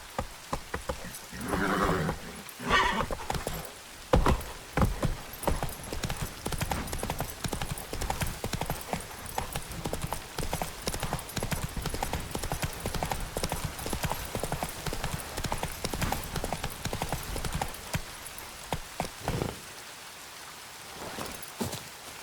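Horse hooves clip-clop at a steady gait throughout The Witcher 3 video game, loud and close, with rain-like patter around them.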